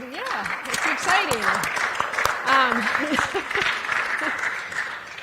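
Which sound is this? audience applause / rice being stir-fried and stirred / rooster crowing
audience applause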